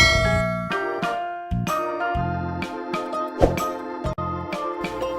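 A bright notification bell chime rings out in a quick series of clear melodic dings, loud and alone with no talk.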